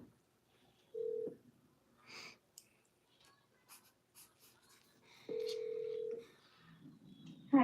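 Telephone keypad tones from a seller follow-up call: two separate steady beeps a few seconds apart, with soft rustling and scratching in between.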